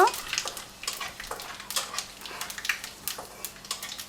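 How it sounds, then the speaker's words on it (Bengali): Bay leaf, dried chili and panch phoron fry in hot oil, giving a steady sizzle broken by sharp crackles and pops and a few light clinks of a stirring utensil. "তেলের মধ্যে তেজপাতা, শুকনো লঙ্কা আর 5 ফোড়ন দেব। ফোড়নটা 30 সেকেন্ডের জন্য একটু ভেজে নেব।"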